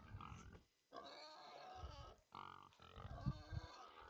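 Pigs in a video game grunt and oink in close, faint bursts, several rough snorts separated by short pauses of near silence.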